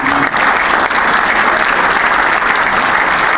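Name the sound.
audience applause at film critics gala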